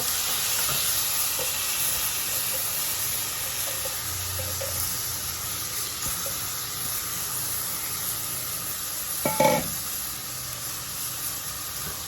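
Steady, loud sizzling of rice and garlic frying in hot lard, a continuous crackling hiss with a brief clatter of a utensil near the end.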